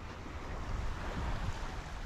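Calm sea off Siruma: a soft, continuous wash of gentle waves, mixed with low wind buffeting the microphone, fairly quiet and without voices.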